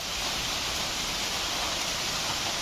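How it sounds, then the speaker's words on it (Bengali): Steady hiss of rain falling, an even broadband wash of sound with no voices. "লাড্ডু তৈরি করতে করতে বৃষ্টি চলে এসছে।"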